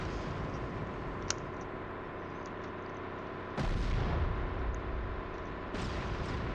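Rockets fired in a VR naval battle game, with a sharp crack early on, then two heavy booming launches that leave a rumbling wash of noise, all fairly loud with no talk over them.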